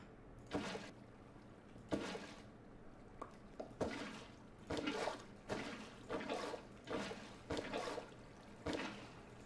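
Faint flowing water from a video game, with repeated soft gushes and splashes rising and falling in an uneven rhythm.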